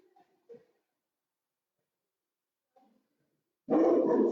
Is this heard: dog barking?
yes